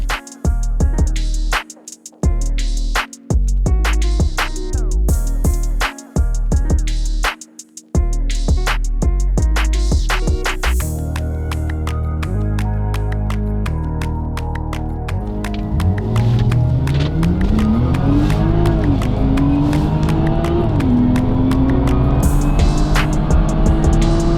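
A BMW 340 races a supercharged Audi A7. Choppy music comes first, then an engine note climbs steadily in pitch under accelerating throttle, loud and close, with a second rising sweep later.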